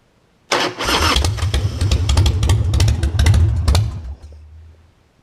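A motorcycle engine coughs to life and runs loud and rough for several seconds, a close, lumpy idle with uneven pulses that then drops away abruptly and fades to a quieter tail.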